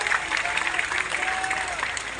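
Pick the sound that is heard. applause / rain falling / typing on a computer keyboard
applause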